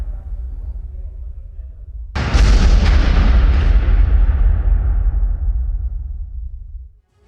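A sudden loud, deep explosion from a Russian strike on Ukrainian military camps erupts after a low rumble and rolls on for several seconds, slowly fading as the roar decays.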